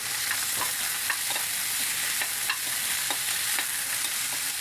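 Pork pieces frying for pakbet in a pan over a wood fire, giving a steady close sizzle with scattered crackles and light stirring scrapes throughout, no voices.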